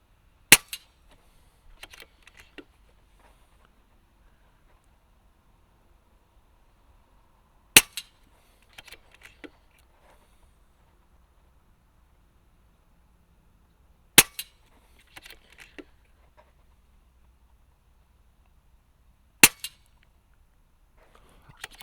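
Four sharp, isolated shots from a KalibrGun Snipe II .177 sub-12 air rifle with a 600mm barrel, each a crisp crack followed by faint handling clicks, spaced several seconds apart in otherwise quiet surroundings.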